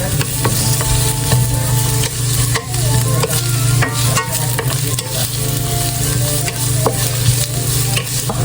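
Onion fries in a pan at home in Japan, a loud steady sizzle with scattered crackles and a few stirring knocks, heard close with a constant low hum underneath.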